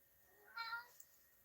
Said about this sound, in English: I don't know if you guys can hear my cat.